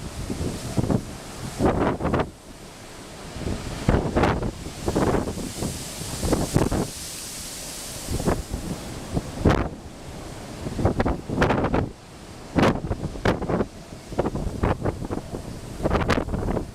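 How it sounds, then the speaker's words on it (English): Strong wind and rough sea waves batter the Queen Elizabeth cruise ship on her maiden transatlantic crossing in January, with heavy gusting roar and repeated loud crashing surges. "Video taken on the Queen Elizabeth in very rough seas during her maiden transatlantic crossing"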